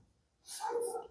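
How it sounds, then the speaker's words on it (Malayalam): A neighbourhood dog barks from just next door, one short sharp burst of barking following a moment of quiet, fairly close and clear. "നമ്മുടെ സ്ഥിരം സുഹൃത്തായ പട്ടി അപ്പുറത്ത് കുരയ്ക്കുന്നുണ്ട്"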